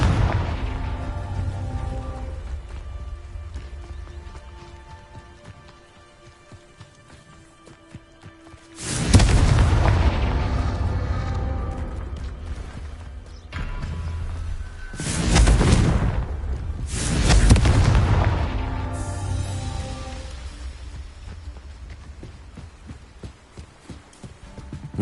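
Confringo blasting spells go off in the Hogwarts Legacy video game, three heavy booming explosions spaced apart, each swelling into a long rumbling decay over a steady low game ambience.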